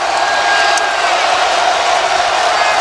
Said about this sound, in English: The crowd is getting back into it